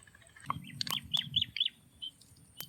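Several short, high recorded bird chirps and tweets played as a hunting lure, in a quick irregular series, fairly close, over a low rumbling background.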